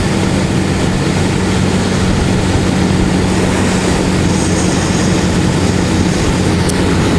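A 2015 Suzuki TU250X single-cylinder motorcycle drones steadily on the move, its engine hum mixed with loud, constant wind rush throughout.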